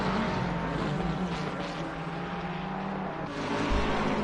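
GT3 race cars, a Ferrari and a McLaren, roar through a long sweeping right-hand corner at Kyalami in a sim racing game, steady loud engine drone with shifting pitch as the cars run close together.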